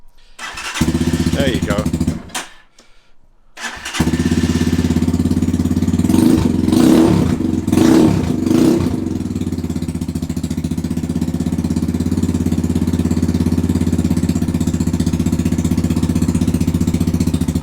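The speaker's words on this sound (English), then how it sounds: "Trying to throttle the bike, hold the camera and start it at the same time." A Kayo 230 T4 dirt bike under repair after a front fork rebuild is kicked over, stutters, then catches and revs in a few blips before settling into a loud, steady high idle on choke, with a short spoken remark early on.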